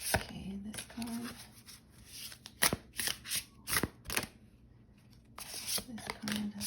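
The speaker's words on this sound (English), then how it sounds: "let me shuffle." Tarot cards being shuffled by hand up close, with bursts of riffling and sliding card noise separated by short pauses, and a voice speaking intermittently between the shuffles.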